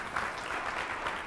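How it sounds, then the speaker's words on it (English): Audience applause, a steady wash of clapping at moderate volume that continues for a moment, somewhat distant. "give me some applause here"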